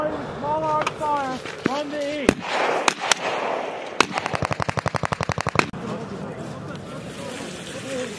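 Small arms gunfire during a U.S. Marine fire team attack drill, with scattered single shots followed by a long rapid string of close, sharp reports; voices talk over and between the shots.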